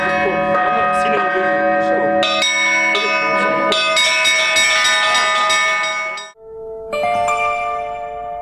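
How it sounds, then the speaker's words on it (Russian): Church bells rung by hand at an Easter bell-ringing master class, where visitors take turns as bell-ringer: loud overlapping clangs and chimes ringing continuously, with a brief pause near the end before the bells strike again. "Завершился день по-пасхальному мастер-классом колокольного звона, на котором каждый желающий смог попробовать себя в роли звонаря."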